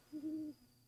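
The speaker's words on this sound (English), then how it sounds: "I think or hear an owl hooting in the distance" An owl hoots once in a video game, a single soft low hoot that sounds distant and faint over quiet background ambience.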